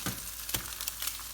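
Eggs lightly scrambled with vegetables cooking in a carbon steel pan, with a steady close sizzle and frying crackle, and a couple of sharper stirring scrapes.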